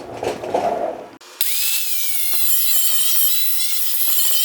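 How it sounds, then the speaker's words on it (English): A cutoff wheel slices into a Jeep body panel at a 45-degree angle, starting with a short lower rumble before a loud, steady, high-pitched grinding whine takes over and holds close up for several seconds. "We're gonna cut it at a 45-degree angle with our cutoff wheels"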